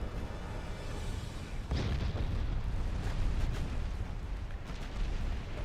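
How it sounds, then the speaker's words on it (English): Heavy naval gunfire batters a battleship in the naval warfare game Ultimate Admiral Dreadnoughts, with a dense rumbling barrage that swells sharply about a third of the way in and keeps up a continuous booming roar, with no talk. "Poor battleship's taking a pretty good beating."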